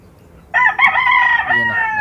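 A rooster crows once, loud and close, a long harmonic call that rises and then trails off, with no talking.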